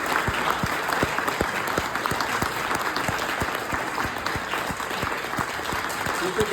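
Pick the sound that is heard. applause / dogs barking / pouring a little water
applause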